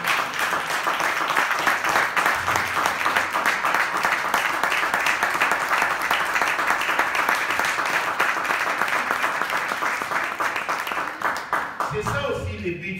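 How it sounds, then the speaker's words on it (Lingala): Church congregation at a Sunday service applauding, a dense sustained round of many hands clapping loudly and evenly for about twelve seconds before tapering off at the end. "acclamons tout le monde pour le Seigneur"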